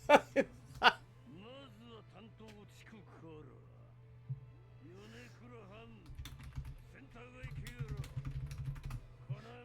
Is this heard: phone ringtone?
no